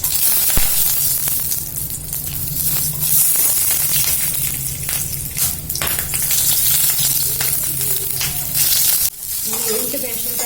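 Cut green chillies sizzling in a little oil in a pan, a steady loud crackling fry with occasional stirring scrapes, continuous throughout.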